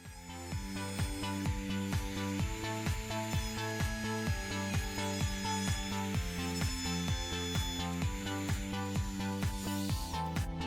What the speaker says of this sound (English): I'm just with the trim router routing out for the hinges